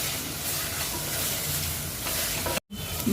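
Pepper masala paste of garlic, coriander and peppercorns sizzling and frying in a pan while being stirred, a continuous close hiss with scraping movements and a brief cut near the end.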